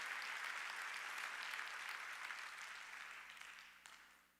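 Congregation applause at a Sunday church service, a dense wash of many hands clapping that starts full and gradually fades over about four seconds, with no one speaking.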